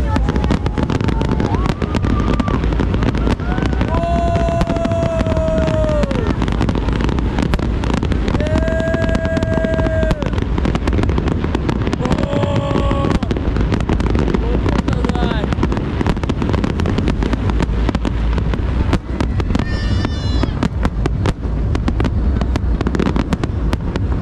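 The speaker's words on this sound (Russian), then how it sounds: "Также мы встретили там Новый год, по-тайски, на море, с салютом шикарным." Fireworks light up a Thai New Year celebration by the sea, with a constant loud crackling roar, repeated whistling rockets rising and falling, and voices faintly mixed in.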